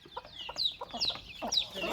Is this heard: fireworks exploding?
no